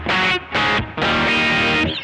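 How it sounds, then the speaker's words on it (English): Electric guitar driven through an overloaded tube amplifier, thick distorted crunch in several loud sustained chord bursts separated by brief gaps, close and dominant with no voices. "I can then switch this to another sound where I overload the amplifier and it sounds like this."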